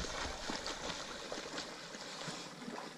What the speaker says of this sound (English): Gonna take a shower now.